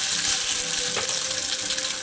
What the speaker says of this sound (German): Das Öl ist jetzt hier schon mal schön heiß geworden. Da können jetzt auch schon mal die Nudeln rein.